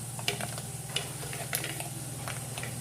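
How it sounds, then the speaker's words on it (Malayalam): Rice roasts in hot oil in a pan for a Kerala-style papaya thoran, giving a faint, steady sizzle broken by scattered soft pops and crackles, with no one talking. "ഇനി ഈ അരി നന്നായിട്ടൊന്ന് പൊട്ടി വന്നോട്ടെ"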